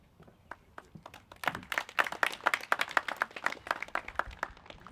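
Audience applause at a construction technology ribbon cutting ceremony in Westland, a crowd clapping steadily and fairly close, swelling after the first second and then holding a dense, even patter with no talking.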